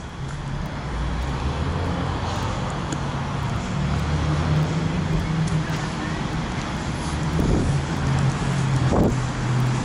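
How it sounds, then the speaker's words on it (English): Cars and traffic roll past on a busy town-square street at night, a steady roadway hum with a couple of nearer vehicles passing toward the end. "Lots of cars coming through."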